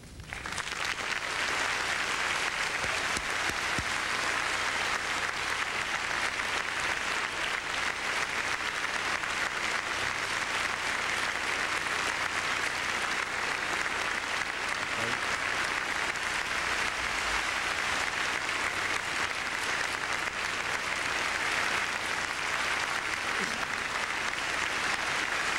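An audience at the 2000 presidential debate applauds as Governor Bush and Vice President Gore are welcomed, dense steady clapping that fills the room without pause for over twenty seconds, with no talking over it.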